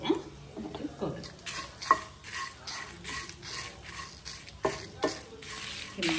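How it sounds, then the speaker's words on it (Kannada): Cumin, pepper and coconut dry-roasting in a pan for a greens soup, stirred with repeated scraping strokes and knocks of the spoon over a soft sizzle, close and rhythmic. "ಜೀರಿಗೆ, ಮೆಣಸು ಹಾಕ್ಕೊಂಡಿದ್ದೀನಿ"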